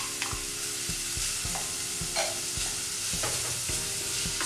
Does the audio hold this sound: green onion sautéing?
yes